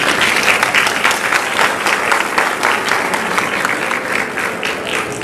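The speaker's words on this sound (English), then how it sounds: "That itself is a round of applause." A large crowd at a high school graduation ceremony applauds the graduating class of 2026, loud sustained clapping that holds steady for several seconds with no speech over it.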